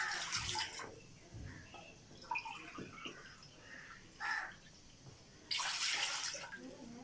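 Water pours into a cooking pot as the first step of sugar syrup for bread gulab jamun, with two splashy bursts of pouring separated by quieter gaps, close and fairly loud.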